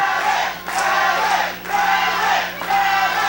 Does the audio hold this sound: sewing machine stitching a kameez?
no